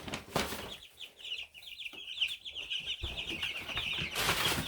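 Two-week-old broiler chicks peep in a continuous high chorus, with rustling shavings and light shuffling underneath, close and fairly quiet, no talk.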